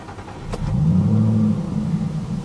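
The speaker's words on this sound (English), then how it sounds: "There really is nothing like the sound of a big V8" Supercharged 5-litre V8 of a Ford Falcon XR8 revving up, a deep close rumble rising into a sustained throaty roar that holds and then eases slightly.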